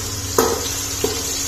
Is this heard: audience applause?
no